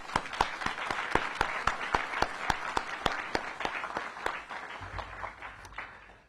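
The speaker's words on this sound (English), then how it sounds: "Please, let's just give one more round of applause to everyone who has made this happen." A small audience gives a round of applause at a civic event launching an HBCU public service program, the claps sparse and distinct, sharply spaced and moderately near, tapering off toward the end with no talk over it.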